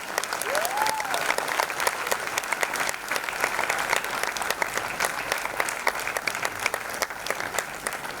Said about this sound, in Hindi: एक बार करतल ध्वनि, जोरदार तालियां इन सभी के लिए।